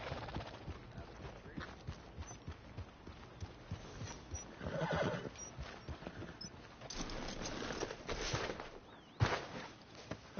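Horse sounds from the Red Dead Redemption 2 video game: a whinny near the middle and hooves clip-clopping at a steady walking rhythm, over ambient game noise.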